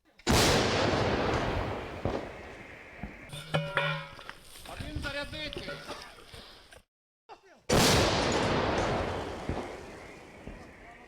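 Loud, booming blasts of an artillery gun firing, with rumbling echoes, one near the start and another after a short silence, with voices and clatter of reloading in between.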